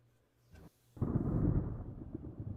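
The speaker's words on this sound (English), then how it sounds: "I hear a storm" A rolling rumble of storm thunder in the naval strategy game Ultimate Admiral Dreadnoughts breaks in after a brief crackle and swells into a deep, sustained roar that carries on to the end.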